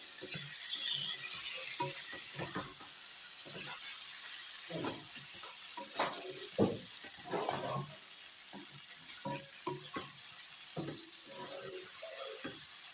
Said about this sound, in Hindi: अब इसे मैं इसी तरह और 5 मिनट के लिए भूनूंगी, फ्राई करूंगी मैं इसे 5 मिनट के लिए।